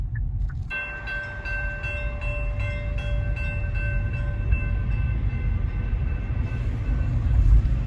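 A train rumbles past nearby with a steady low roar, a sustained horn tone sounding over it through most of the passage.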